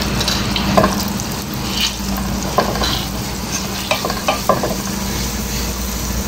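Garlic and ginger sautéing in melted butter in a pan, with a steady sizzle and occasional stirring scrapes, close and fairly loud with no talk.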